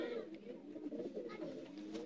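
Sialkoti pigeons coo in soft, continuous, rolling murmurs. The sound is faint and steady, with slight background noise.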